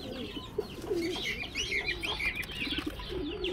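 Pigeons coo softly and repeatedly nearby in a colony cage with chicks, with a few higher chirps and faint wing flutters mixed in.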